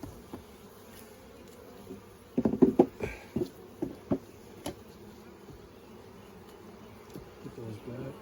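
Honeybees buzz around an opened hive box, a faint, low hum with a cluster of soft taps and knocks from handling the box.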